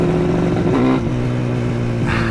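Yamaha RD400 two-stroke street motorcycle revving close by, a loud buzzing engine note with pitch swells as the throttle is blipped, heard alone.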